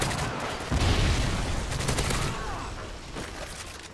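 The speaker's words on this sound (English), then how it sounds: "Friendly predator missile inbound." Rapid gunfire and explosions from a Modern Warfare 3 multiplayer match, with a predator missile strike. Dense bursts of shots and booming impacts run continuously at close range.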